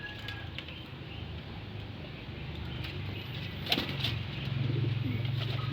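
Pigeons flying around outdoors on an overcast morning, soft cooing and faint wing flapping with a few brief flutters, distant and quiet against a low background hum.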